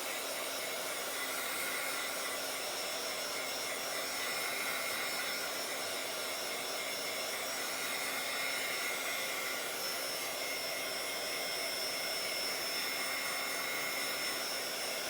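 A hair dryer blows steadily to dry paint on a handmade boho craft tag, a loud continuous whooshing roar with a faint high whine that holds unbroken from start to finish.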